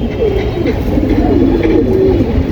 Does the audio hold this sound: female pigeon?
yes